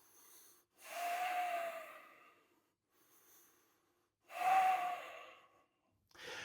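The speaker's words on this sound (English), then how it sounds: "Feel some heat being generated. 2 breaths." Slow, deep yoga breaths during a bootcamp lunge sequence: two long, close airy exhalations several seconds apart with softer inhales between, quiet and unaccompanied by speech.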